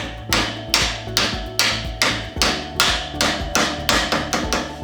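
A dozen light hammer taps land in a steady, even rhythm, each a crisp close knock on wood with a short ring after it.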